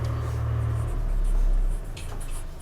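A pen writes by hand while a geometry construction is drawn, light scratchy strokes close by over a steady low hum.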